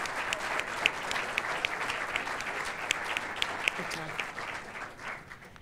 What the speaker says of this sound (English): And one more time while you're clapping, can we celebrate all of our students?